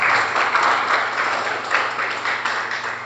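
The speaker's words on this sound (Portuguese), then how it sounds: "Vou dar mais uma salva de palmas para Jesus." Church congregation at a Portuguese-language worship service giving a round of applause, a full, steady wash of clapping that is loudest at the start and gradually eases, with a faint hum beneath.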